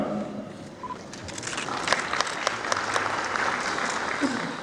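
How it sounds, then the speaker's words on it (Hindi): A crowd at a National Voters' Day ceremony claps to welcome newly registered young voters, a thick, even wash of applause that holds steady throughout. "एक बार तालियों से इनका और स्वागत हो"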